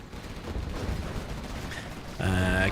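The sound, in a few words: quad cannon gunfire in the video game Command and Conquer Generals Zero Hour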